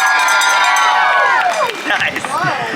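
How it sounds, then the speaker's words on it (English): A Renaissance festival crowd screams, whistles, applauds and cheers in a loud, sustained roar, with shrill whistles and high yells riding over dense clapping before the noise breaks into scattered shouts. "It can make you scream, whistle, applaud, and cheer for absolutely no reason whatsoever"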